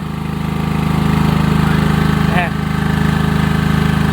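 A 9.37 kW petrol generator runs with a loud, steady, droning engine hum close by, its rapid even pulsing continuous throughout, with a person speaking briefly over it.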